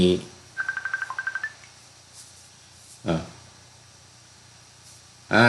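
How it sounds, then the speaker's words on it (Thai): A telephone rings with an incoming call during a recorded radio sermon program: a short burst of rapid, bright electronic ring pulses between stretches of near silence and a man's speech. "มีโทรศัพท์เข้ามา"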